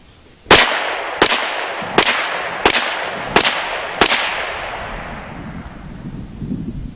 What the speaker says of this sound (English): Well, let's shoot this gun.